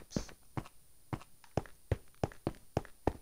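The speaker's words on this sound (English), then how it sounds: "I can hear his footsteps." Skeleton footsteps in Minecraft: a steady series of about ten light, crisp taps at an even walking pace, fairly close and otherwise alone.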